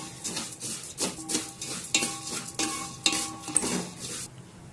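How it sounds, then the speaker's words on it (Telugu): Vermicelli fries in ghee in a pan while being stirred, giving soft sizzling and scraping with several distinct clinks of a utensil against the pan. The sound is close and uneven, with no talk. "మంచిగా ఈ నెయ్యిలోనే కొంచెం ఫ్రై చేసుకుందాం"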